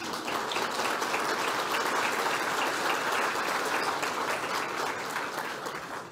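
An audience at a closing ceremony and cultural event breaks into steady applause, a dense, even wash of many hands clapping together that keeps going for several seconds before it begins to fade.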